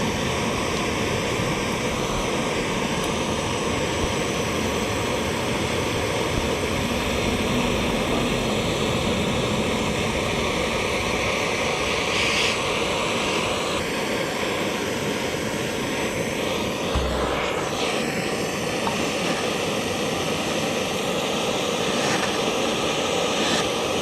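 A gas torch burns steadily while heating the outside of a metal part to free a stuck socket, a continuous close roaring hiss with faint clinks, no talking over it.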